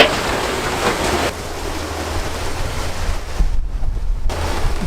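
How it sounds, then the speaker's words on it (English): A large ocean wave crashes onto a sailboat in heavy chop with no sails up, a loud rushing wash and spray over steady wind noise that eases and then surges again. "We just had one of the biggest waves so far come down on us"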